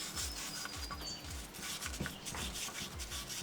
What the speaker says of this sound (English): I'm going to be using a wire brush just to get rid of all of it.